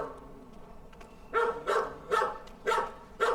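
A dog barks in the Antarctic scenery of Microsoft Flight Simulator, giving about five evenly spaced, moderately loud barks after a quiet start.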